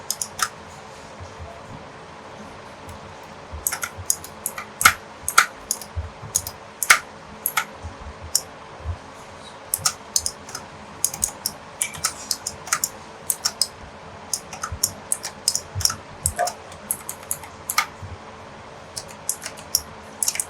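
Someone types on a computer keyboard in irregular bursts of crisp, close key clicks over a low steady background hum, with no talking.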